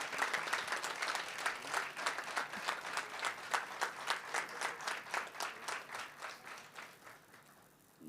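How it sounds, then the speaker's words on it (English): Conference audience applauds the staff in a sustained round of clapping at a moderate distance, steady for several seconds before tapering off toward the end. "So let's have a big round of applause for them."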